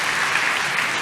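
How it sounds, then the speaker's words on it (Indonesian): Church congregation applauding, a dense, steady wash of many hands clapping together, loud and continuous across the whole short moment. "Tepuk tangan yang paling meriah dulu buat Tuhan."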